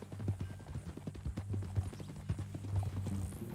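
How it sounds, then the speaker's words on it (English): Hooves of a horse in Red Dead Redemption 2 clip-clop in a steady walking rhythm, fairly close and moderately loud, over a low background hum with no clear talk. "That new horse?"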